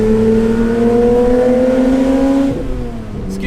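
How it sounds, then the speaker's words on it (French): A Porsche 911 Speedster fitted with an Akrapovic exhaust holds a loud, steady engine note with strong rising harmonics, then the revs drop and settle near 2.5 seconds into a lower idle-like drone, with no talking. "c'est que le son de l'échappement est tellement présent"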